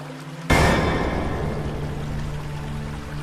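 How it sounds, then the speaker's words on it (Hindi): Water from a waterfall at a Mahadev temple splashes during bathing, bursting in suddenly after a brief quiet hum and then pouring steadily and loudly for the rest of the moment. "संताजी पास के महादेव मंदिर के झरने में स्नान करने का विचार किया।"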